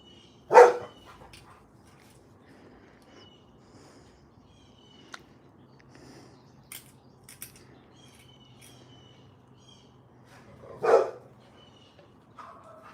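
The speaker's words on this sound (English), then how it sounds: "his friends are out next door, so he's going to bark away" A dog barks at neighbours next door. Two loud barks sit about ten seconds apart, with quiet between them and faint birds chirping in the background.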